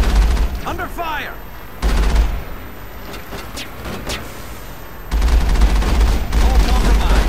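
Combat gunfire from the Mass Effect video game, with loud bursts of shots and rapid fusillades in two heavy stretches separated by a quieter exchange of scattered shots.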